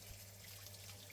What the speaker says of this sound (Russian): тщательно промываем под водой